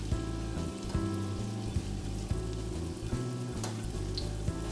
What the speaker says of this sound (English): And we'll just gently start frying our egg rolls.